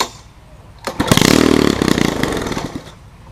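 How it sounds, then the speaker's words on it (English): Lawn mower engine, primed with starter fluid and carburetor cleaner, coughs to life and revs hard at startup, a loud, close, rattling burst lasting a couple of seconds before easing off. "The startup rev is pretty loud."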